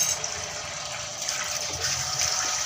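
Tap water running steadily into a container during a household morning routine in an Indian home, a continuous close gushing hiss with no talk.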